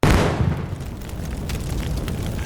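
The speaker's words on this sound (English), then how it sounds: "They brought huge cannons. They shot fire bombs into the mountains." A heavy cannon blast of fire bombs fired into mountains, a sudden loud boom that rolls into a long rumbling roar and sustained crackling rumble with no voices.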